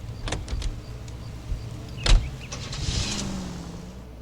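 A car in the LA Noire video game makes a short burst of mechanical whirring, clunks and a sharp knock, then a low engine drone that swells and settles, close and fairly loud.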